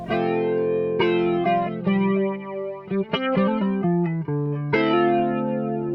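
Electric guitar strums chords and picks quick notes through a Korg PME 40X flanger effect in mono, the tone swirling with a metallic sweep; steady, up-front playing without speech.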